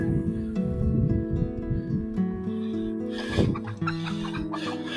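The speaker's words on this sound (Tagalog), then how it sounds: "Takot yung mga manok eh." Frightened chickens clucking and squawking nearby along a rural roadside, a busy overlapping flock chatter with agitated bursts, heard outdoors without talk.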